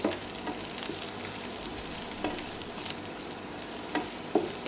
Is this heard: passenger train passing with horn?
no